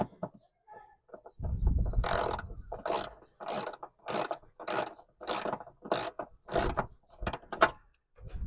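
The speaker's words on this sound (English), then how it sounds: "with the 10mm socket and ratchet, just righty tighty." A 10mm socket and ratchet tighten the bolts on a rear wiper washer motor, a series of about ten rhythmic, close ratcheting clicks in quick, even strokes.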